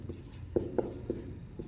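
A question being written on a board during a maths lesson: three or four short, distinct scraping strokes spaced about a quarter second apart, close and moderately loud, with no talking.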